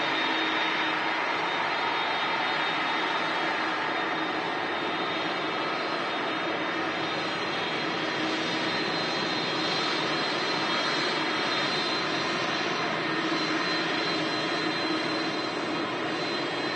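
A steady, loud roar from an ATR turboprop airliner at Manchester Airport, a continuous broadband engine drone with a whining tone, with no talk over it.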